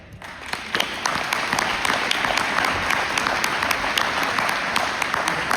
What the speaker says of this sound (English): Let's give all these wonderful candidates and public service elected officials a big round of applause